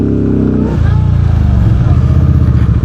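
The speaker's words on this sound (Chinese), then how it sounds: "我先试一下大油门会不会熄火" A Voge CU625 AMT motorcycle engine idles and then jumps to a hard full-throttle rev, a loud, close, rising roar with rapid firing pulses and no talking over it.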